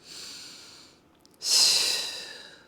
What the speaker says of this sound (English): At the same time, sniff and blow.